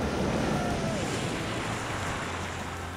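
Ocean surf at a beach on a calm day with small waves, a steady broad wash close by mixed with heavy wind buffeting the microphone.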